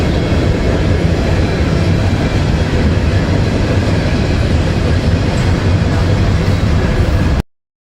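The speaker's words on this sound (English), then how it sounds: "This is a really long train." A long freight train rumbles past at close range, loud and continuous with a heavy low roar and rattling cars, then cuts off abruptly.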